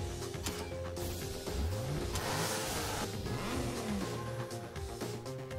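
A race car's engine revs in the Blur racing video game, a steady loud mechanical drone with rising pitch sweeps as the throttle climbs, no voices over it.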